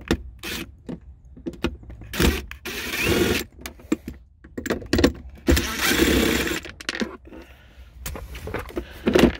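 Power driver fitted with a bit extender backing screws out of the center console of a Jeep Grand Cherokee WJ, giving bursts of whirring motor sound separated by clicks and handling noise, close and moderately loud.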